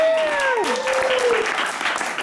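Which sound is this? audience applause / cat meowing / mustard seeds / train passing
audience applause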